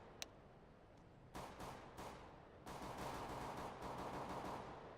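Pistol-round gunfire in a Counter-Strike: Global Offensive match: a sharp single shot, then dense bursts of rapid shots that run almost continuously, heard at moderate loudness with no talking.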